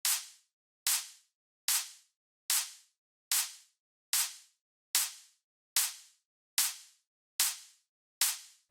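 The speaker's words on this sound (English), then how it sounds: "this is making the snare very, very dynamic" Synthesized psytrance snare drum processed with slow-attack compression, eleven sharp, bright cracks evenly spaced at a steady pulse, each with a punchy transient and short decaying tail, loud and alone.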